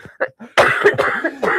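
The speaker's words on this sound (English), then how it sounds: "I have still got a cough" A person coughs a few times in a quick burst, close and loud, with a short breath and small throat sounds just before.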